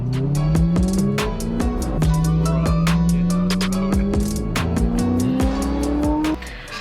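A Lamborghini Urus drives by loud and close, its engine note climbing through revving gear pulls with sharp pops and crackles, then dropping away at the end.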